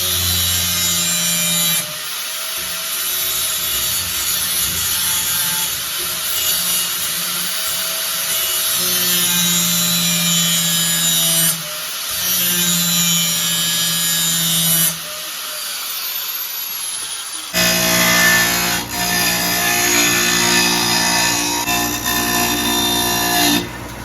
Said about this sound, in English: I was going to take took the cutoff wheel off of it, put a grinding wheel on it. We're just going to grind this radius.